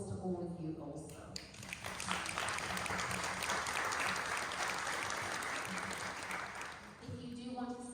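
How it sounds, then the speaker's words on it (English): Audience at a panel discussion breaks into sustained, full-room applause for several seconds; a voice speaks briefly before the clapping swells and again as it dies down. "So an applause to all of you also"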